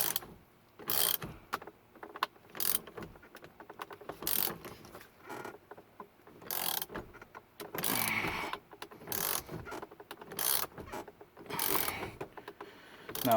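Ratchet wrench turned by hand on the steering wheel nut of a Datsun 280Z during a quick-release install, giving repeated bursts of clicking strokes with short pauses between, close and moderately loud, no talk.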